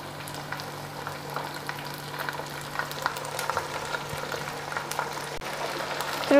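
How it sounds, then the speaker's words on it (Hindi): Chicken pieces fry in hot oil for a biryani korma while being stirred, giving a steady crackling sizzle broken by scraping and clinking of the spoon against the pan, moderately loud and close. "चिकन ऐड कर लिया, अब इसे अच्छी तरह से मिक्स कर लेते हैं और इसकी भुनाई कर लेते हैं"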